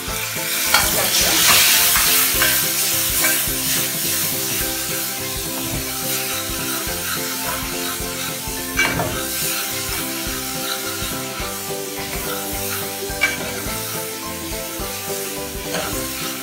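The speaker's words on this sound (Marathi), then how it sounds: "आलं लसूण वगैरे सर्व चांगलं छान परतलं ना" Fenugreek, ginger and garlic sauté in a pan for kadhi, a continuous close sizzle with repeated scraping stirs and occasional sharper clinks, with no talking.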